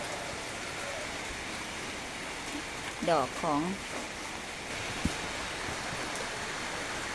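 Steady rain falls hard as a constant hiss for the whole stretch, with a voice briefly speaking over it midway.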